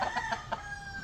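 Backyard chickens kept near a farm hut in the Philippine countryside, clucking in a few quick bursts over the first half second, with a crowing rooster blended into the flock calls at moderate distance.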